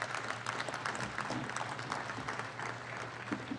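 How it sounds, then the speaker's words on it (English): Applause from an audience at a topping-out ceremony for the Moscone Center expansion, a steady wash of clapping over a low hum, fairly distant and sustained throughout. "Please give them a round of applause."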